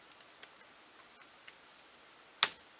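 A few light, quick keystrokes tapped on a computer keyboard to enter a code, quiet and close, ending in one sharper, louder key press.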